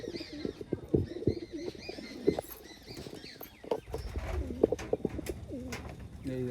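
Giribaz pigeons coo repeatedly in low throaty bursts in a loft, close by, with wing flutters, light scratching and faint chirps around them.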